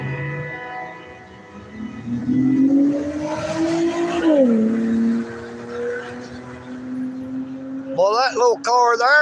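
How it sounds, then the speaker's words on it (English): A small car speeds past on a town road, its engine note climbing and then dropping sharply as it goes by, loud and close, with a person talking before and after the pass. "that little car there was a hammering down that like he was in a great old big hurry"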